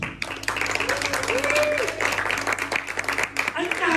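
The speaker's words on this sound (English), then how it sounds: "So ladies and gentlemen, can you please give them a big round of applause?" Audience applause at a comedy hypnotist show on the Grand Pier in Weston, steady clapping filling the room for about four seconds, with cheering voices and a few whoops mixed in.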